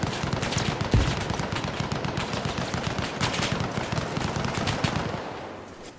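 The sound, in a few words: gunfire in a multiplayer war video game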